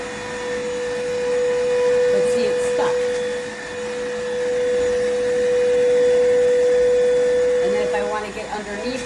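An iwoly C150 cordless rechargeable vacuum cleaner runs steadily with a strong motor whine and airflow hiss, its pitch holding constant as the head is pushed about, loud and close for the whole stretch.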